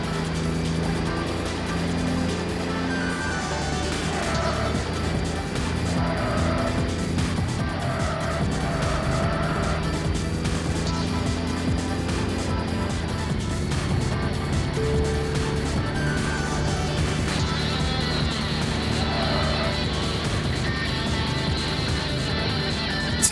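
A car engine in Tokyo Xtreme Racer Zero drones steadily with a deep, truck-like diesel tone, rising and falling in pitch as it revs through gears, loud and continuous throughout.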